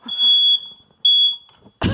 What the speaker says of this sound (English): except when it sets off the fire alarm.